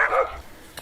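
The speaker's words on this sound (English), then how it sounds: "stop him from barking" A dog named Tilly barks once, sharp and fairly close, followed by a faint yip, inside a house during ceiling renovation work.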